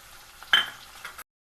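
Chicken stirred in a hot pan with red chili powder, black pepper and salt in a village kitchen, a brief soft sizzle and scrape rising in the middle and then fading.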